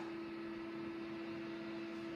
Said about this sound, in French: on entend les ventilos